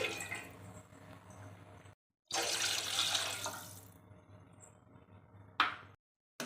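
Water runs from a tap into a bowl while preparing vermicelli for semiya kesari, in two splashing bursts of pouring with short pauses, then a brief final splash.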